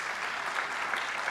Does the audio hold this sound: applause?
yes